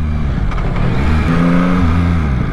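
A 2021 Yamaha MT-09 motorcycle idles close by at the seaside with a loud, steady low rumble. The engine revs slightly midway and then settles back to idle, and no voices are heard.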